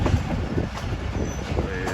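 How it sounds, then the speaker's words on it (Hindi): The Ghouri Express train pulls into a station platform on the Faisalabad to Lahore line, a loud continuous rumble of rolling wheels with faint squeals, heard close by. "शाम की तरह लिंक की हुई हमारी गोरी एक्सप्रेस प्लेस कर रही है शेखुपुरा जंक्शन रेलवे स्टेशन के प्लेटफॉर्म पर"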